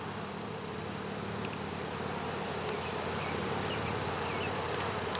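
Honey bees swarm around an open hive during a frame inspection, making a dense, steady buzzing that is close and continuous throughout, with no voices.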